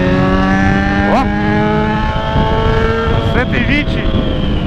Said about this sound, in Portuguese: Corre muito essa moto, galera.